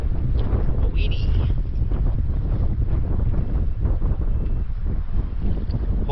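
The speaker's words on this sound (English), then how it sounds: "Hopefully the wind noise isn't too bad." Steady, heavy wind buffeting the microphone at a rocky lakeshore campsite in Algonquin Park, a constant low rumble and roar that fills the whole stretch without letup.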